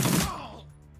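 A single short burst of gunfire in Shadowrun Dragonfall, a sharp rattling volley lasting a fraction of a second, then decaying quickly into a faint tail.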